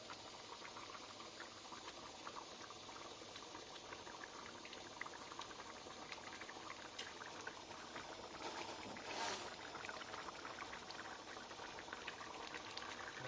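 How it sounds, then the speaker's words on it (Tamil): Chettinad mutton gravy bubbles at a soft, steady simmer in a pot, a faint continuous burbling with small pops throughout and no talk. "குழம்பு கொதிச்சிருச்சு"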